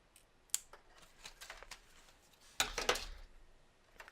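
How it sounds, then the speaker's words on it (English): Scissors snipping through an LED light strip at a desk, a few sharp quiet cuts and crisp clicks close by, ending in a louder cluster of snips, with no talking. "So we're going to cut this strip again."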